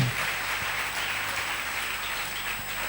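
A church audience applauds with a dense, steady wash of clapping that holds at an even level throughout.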